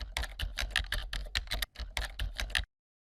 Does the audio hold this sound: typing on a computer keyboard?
yes